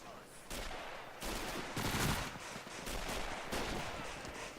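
Bursts of MG42 machine gun fire crackle in a Men of War: Assault Squad 2 battle, with rapid overlapping volleys and fusillades rolling on and off at mid distance, dense and continuous over a few seconds.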